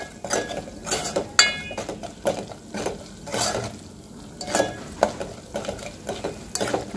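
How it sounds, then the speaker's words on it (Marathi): Dry spices being sautéed in a pan for a Vidarbha-style chunvadi curry, with a spoon scraping and stirring in repeated strokes over a steady sizzle, clinks of metal utensil against the pan, no talking. "याला 2-3 मिनिटं छान सुक्या मसाल्याला आपल्याला परतून घ्यायचं आहे"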